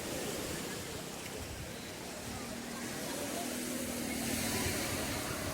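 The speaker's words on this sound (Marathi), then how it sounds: "आपण लाटा बघूया" Ocean surf rolls and washes in a soft, continuous roar at Revdanda Beach, fairly faint and distant, with no clear voices over it.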